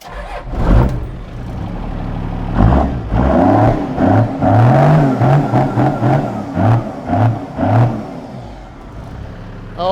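A Toyota Land Cruiser HJ47 fitted with a swapped-in 12HT diesel engine revs repeatedly in a steady series of throttle blips, loud and close, its rough diesel note rising and falling with no talking.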